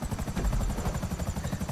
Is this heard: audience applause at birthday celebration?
no